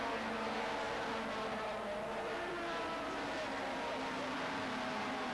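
BMW touring cars race bumper to bumper in a 1995 STW sprint race at the Salzburgring, a dense, continuous engine roar heard from a distance under a constant wash of crowd and track noise.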